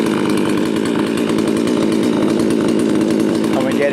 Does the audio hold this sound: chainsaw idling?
yes